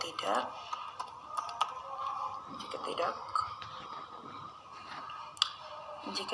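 Code is typed on a computer keyboard in a continuous patter of soft keystrokes with occasional louder taps, while a voice speaks quietly over the typing throughout.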